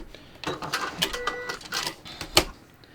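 A sewing machine stitching a seam in stretchy knit fabric with a Seraflex thread, giving short, fairly faint mechanical bursts and clicks with small pauses between them, fairly close.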